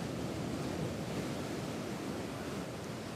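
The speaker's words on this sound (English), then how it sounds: "clearly waves of this nature have a tremendous strength" Strong sea waves pounding the coast in Thailand during Storm Pabuk, a steady, dense roar of surf and wind that stays loud and unbroken with no voices.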